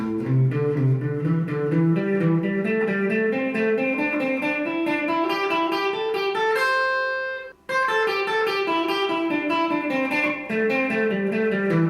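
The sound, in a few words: electric guitar pentatonic sequence in groups of three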